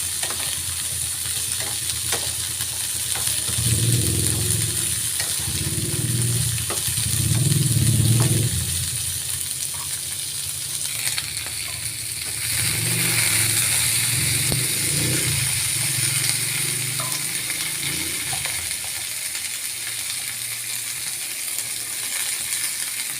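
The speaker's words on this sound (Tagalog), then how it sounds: "Halo-halo po, gisa-gisa. Then, pag nagisa na po siyang mabuti" String beans and squash with shrimp are sautéed in a pan, producing a continuous close sizzle with occasional stirring scrapes and some low rumbling background noise, with no speech.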